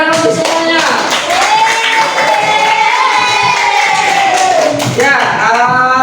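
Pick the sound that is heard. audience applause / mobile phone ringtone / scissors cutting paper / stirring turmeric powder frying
audience applause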